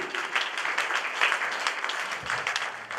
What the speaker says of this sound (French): Acclame très fort pour sa vie.